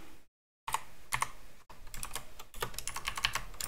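Rapid keystrokes on a computer keyboard during a JavaScript keyboard-events demo: irregular bursts of close, crisp clicks after a brief pause, growing busier toward the end, with no talk.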